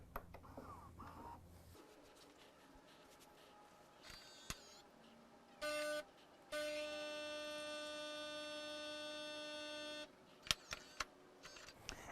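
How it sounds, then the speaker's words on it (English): A Gaggia Velasca espresso machine brews a shot from pre-ground coffee, with a steady loud pump hum and whine that runs for several seconds, broken by short clicks and clunks before and after. "Now, we'll go ahead and brew our espresso."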